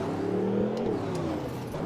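A Thrasher custom trophy truck in the Rigs of Rods driving game revs steadily, a loud, continuous droning engine whir with slight rises in pitch, alone without talk.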